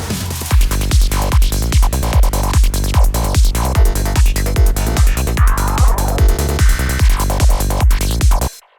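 A full music mix with processed lead, left without tape emulation, plays loud and dense with a steady pulsing beat of regular hits, cutting off abruptly at the end.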